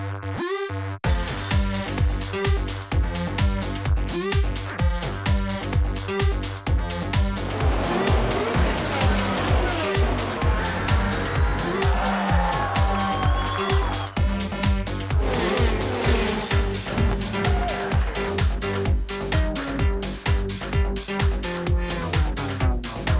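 GT race cars such as a Maserati, Corvette, Ferrari, Porsche and Lamborghini roar continuously around a circuit, engines loud and close, with rapid repeated gear-change pulses and passing whooshes, backed by driving music.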